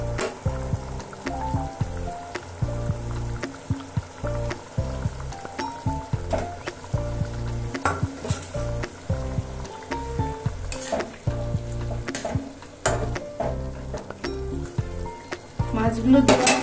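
Bhetki fish pieces go one by one into a bubbling spiced curry in a pan, which sizzles and fries steadily up close, with stirring and light clinks of utensils throughout.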